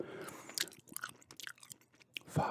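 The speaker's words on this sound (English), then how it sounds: "I'm gum chewing" Gum being chewed right up against the microphone, with wet, sticky smacks and crunchy clicks in an uneven rhythm and short quiet gaps between bites.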